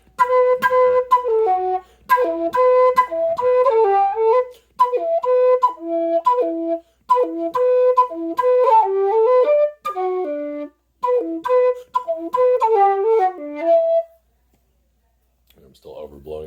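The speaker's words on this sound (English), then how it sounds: "also these whistles can be tongued, especially at the top" Low D whistle played with crisp tongued articulation, a run of separated, detached notes in short bursts climbing into the upper register, loud and close, ending in silence before a faint new phrase.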